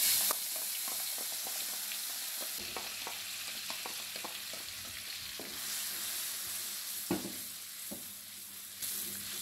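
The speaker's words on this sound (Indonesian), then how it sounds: "Ditumis sampai bumbu harum." Ground spice paste sautés in frying oil in a pan, giving a continuous loud sizzle broken by occasional scraping stir clicks, with no voices.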